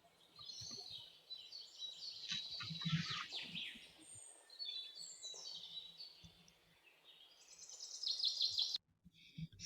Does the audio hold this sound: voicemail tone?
no